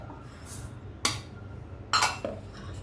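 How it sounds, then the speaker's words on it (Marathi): Roasted masala spices and sugar tipped into a steel mixer jar for homemade instant tea masala, giving a few brief clinks and rattles against the jar, near and fairly quiet, with no talking. "इथे मिक्सरचं भांडं घेतलं आहे त्यामध्ये आपण हा सगळा जो मसाला भाजला होता म्हणजे शेकला होता तो घालून घेऊ त्याचबरोबर साखर आहे ती घालून घेऊया"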